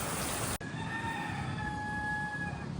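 A rooster crows in one long drawn-out call outdoors, with steady background hiss.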